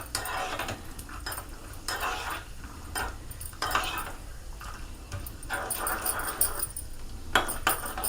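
Flattened rice roasting for payasam, stirred in a pan with repeated scraping strokes and light clinks of the spoon against metal, close and rhythmic, with a voice faintly underneath.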